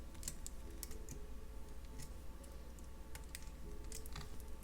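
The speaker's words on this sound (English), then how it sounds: "grab that loop again with my skinny pliers, grab the tail, and do a couple of wraps" Thin jewellery wire being wrapped around a loop with skinny pliers while beading an Art Deco necklace, giving faint, scattered small clicks and ticks against a quiet, steady background.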